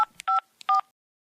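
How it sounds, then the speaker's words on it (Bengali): Touch-tone telephone keypad dialing: three short, clear DTMF beeps with faint key clicks between them, close and alone with no voices. "তারপর রঞ্জন জয়ন্তকে ফোন করল"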